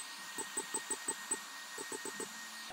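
A LaserPecker 4 portable laser engraver works on a piece, giving a series of short, evenly spaced pulsing beeps or buzzes in two bursts over a faint steady hum, quiet and close.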